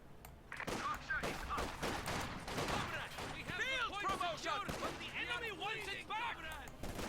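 Company of Heroes 2 real-time strategy battle with dense overlapping rifle and machine-gun fire, steady and moderately distant, over a clamour of shouting soldier voices.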